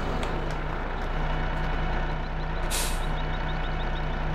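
A truck idles under steady engine rumble while reversing beeps chirp in a regular series, broken by a sharp hiss of air brakes releasing near the end; no one talks.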